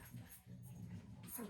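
A dog whimpers and whines in a few faint, high bursts over a steady indoor background, with no talk over it.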